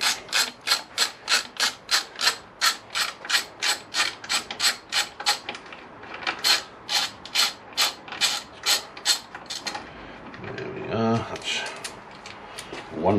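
Ratchet wrench undoing the rear under-tray bolts on a Suzuki SV1000 motorcycle, a steady run of even, close clicking strokes that turns more irregular near the end, followed by some rubbing and handling noise.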